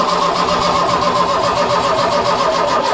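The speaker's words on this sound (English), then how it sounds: "If she fires, just let it idle and just see what happens." A barn-find Mk1 Ford Fiesta Ghia with a 1.1 engine cranks steadily, a loud, continuous churning starter whir with pulsing compression beats that never quite settles into running.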